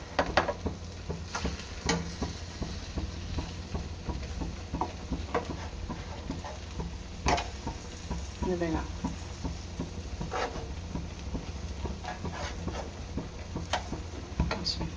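Pieces of Kashmiri egg being turned slowly in a frying pan, with soft sizzling, light scraping and clinks of a utensil against the pan scattered throughout, while a person talks.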